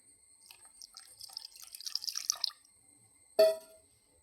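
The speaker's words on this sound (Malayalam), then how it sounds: "ഇതിനകത്ത് കുറച്ച് പാലൊഴിക്കാം" Milk poured into a bowl holding two cracked and beaten eggs, a soft splashing trickle lasting about two seconds, followed by a single sharp clunk of a container set down.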